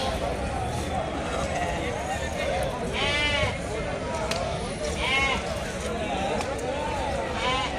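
Sheep bleat at the Nallapadu sheep market in Guntur, several wavering calls rising above a busy crowd murmur, close by and repeated every couple of seconds, with people talking throughout.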